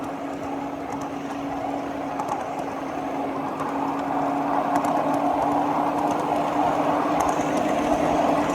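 A 7.5-inch gauge battery-powered flat tank car rolls along a mainline track, giving a steady low rumble and rail hum that grows slightly louder partway through, with no talking.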